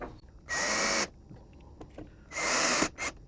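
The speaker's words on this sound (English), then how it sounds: "All right, so we'll go ahead and screw this in." Power drill driving smart lock mounting screws into a door, two loud whirring bursts of about half a second each separated by a pause, with small clicks and handling noises between.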